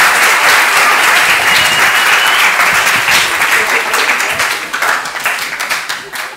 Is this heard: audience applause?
yes